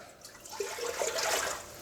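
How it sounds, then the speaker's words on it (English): A litre of water poured into a pressure cooker, a short close splashing stream that grows fuller over about two seconds in a quiet kitchen. "First of all, we'll put a litre of water into the pressure cooker,"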